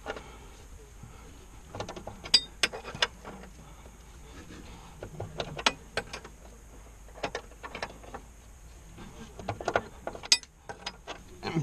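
A hand wrench works bolts on the subframe of a 2001 Chevy Cavalier, producing faint, irregular metallic clicks and taps close by over a quiet background.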